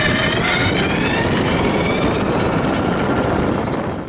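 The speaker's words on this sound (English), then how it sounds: "Starting noise with the throttle only CYC motor." A CYC X1 Pro e-bike mid-drive motor starts up on throttle only, giving a steady, loud whirring drone with an engine-like hum that holds evenly for about four seconds before easing slightly at the end.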